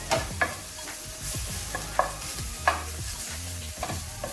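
Ackee and white beans stirred in a hot pan, a spoon scraping through the mixture with soft repeated strokes and light clinks over a low sizzle, close and alone.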